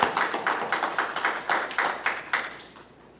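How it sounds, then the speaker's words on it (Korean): Audience clapping at a church graduation ceremony for a pastor completing his course, a brisk burst of claps close by that thins out and fades toward the end. "우리 한번 박수로 한번 감사합시다"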